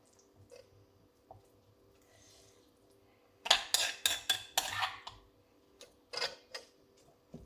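Thai chili paste ingredients pounded in a mortar with a pestle: after a quiet start, a quick cluster of sharp knocks, then a couple more strikes, close and clear.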